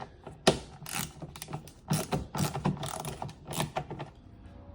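A ratchet works 8 mm bumper bolts on a Jeep Wrangler JL, giving quick clicking bursts and metallic rattles in uneven runs, close and fairly loud.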